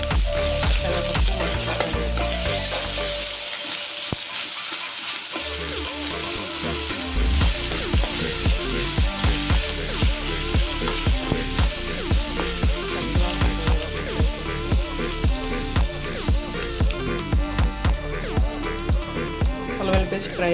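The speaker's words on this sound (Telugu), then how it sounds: "అల్లం పేస్ట్ ఫ్రై అయిపోయింది కదా" Onions with ginger-garlic paste fry in a pan with a loud, close, continuous sizzle broken by repeated rhythmic scraping of a spoon, and it dips briefly near the start before resuming.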